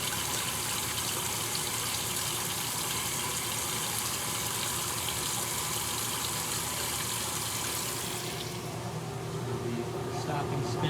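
Warm water steadily filling a washing machine tub while an RV is unwinterized, a continuous rushing flow that thins out near the end as the inflow stops.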